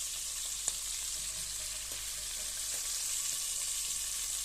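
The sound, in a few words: chicken pieces frying lightly in a pan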